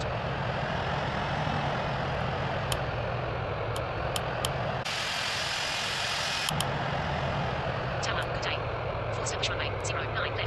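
Airbus A380 engines at takeoff in a flight simulator game, a steady loud broadband roar throughout, with brief beeps and chirps and a momentary hiss surge midway, with voices speaking over it.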